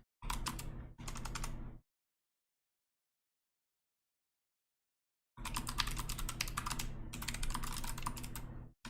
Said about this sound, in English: Oh, I'm typing badly here.